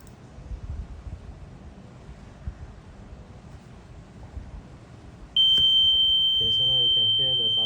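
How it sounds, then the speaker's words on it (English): A rain detector's buzzer starts suddenly and holds a loud, steady high-pitched electronic tone, following quiet background murmur, while a person talks over it near the end. "now you can hear the buzzer already make the noise"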